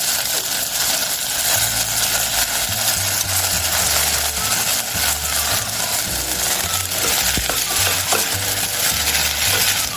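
Potato, beans, peas and carrots sizzle steadily in a hot pan over coriander and cumin seeds, while a spoon scrapes and stirs in uneven bursts close by, with no talk.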